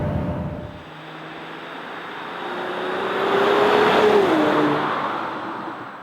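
A 2018 Mercedes E400 E-Class Coupé cruises on the motorway with a steady broadband road and wind roar that swells, while a low engine tone rises in pitch and then drops, heard from inside the car.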